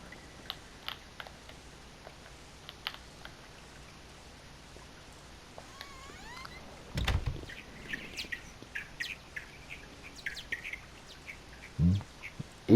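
Faint intermittent chirps and chattering bird-like calls in a quiet video-game setting, scattered across the stretch with a few louder thumps and clicks mixed in.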